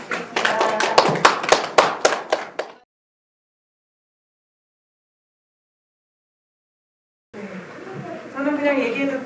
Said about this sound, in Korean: 강경자 학생님께 박수 부탁드립니다.